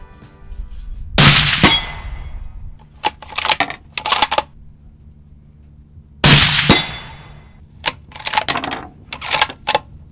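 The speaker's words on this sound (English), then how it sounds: "So I'm just gonna shoot at a couple of these metal gongs" Rifle shots ring off metal gongs set at 200 to 300 yards outdoors, two separate clusters of sharp cracks each followed by bright, lingering metallic clangs and shorter pings, with quiet gaps between.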